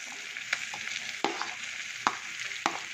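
Potatoes frying with pork in a pan, a steady, close sizzle with occasional sharp scrapes and clacks from stirring at uneven intervals, and no talking.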